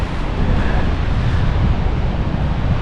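Ocean surf at Bournemouth's sandy beach near the pier, a steady loud wash of breaking waves mixed with heavy wind buffeting the microphone, unbroken and with no talking.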